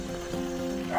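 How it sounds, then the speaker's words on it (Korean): Dog barking at a rural guesthouse on a mountain route, a short yip rising near the end over steady background hum, with faint harmonic tones throughout. "강아지 짖는 소리도 반갑다"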